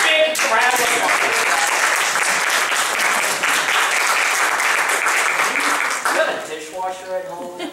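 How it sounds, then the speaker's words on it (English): Loud, dense audience applause rolls on for several seconds before tapering off, with a voice heard at the start and again as the clapping dies away. "give him a big round of applause"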